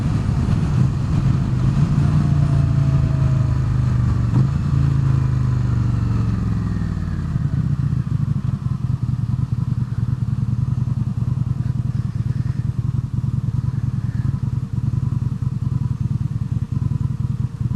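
A motorcycle exhaust drones steadily while the bike is ridden. Its low, throaty rumble stays constant and fairly loud throughout, with a slight falling pitch early on and no talk heard.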